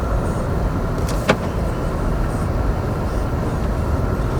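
Car interior on a drive through Lofoten, Norway: a steady loud rumble of engine and road noise fills the cabin, with a brief click partway through.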